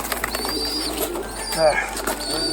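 A pigeon bred from parents brought from New Mexico gives soft cooing calls with a few higher chirping tones, close and moderately loud, with faint background noise.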